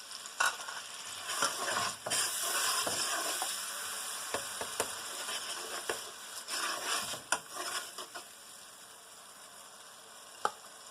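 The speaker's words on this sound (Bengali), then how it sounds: "এখন আমি এই মশলাটা ভালো মতন কষাবো।" A spice masala for a vegetable dish is sautéed in a pan, hissing with a soft continuous sizzle while a spoon stirs and taps against the pan in irregular knocks, quiet and close.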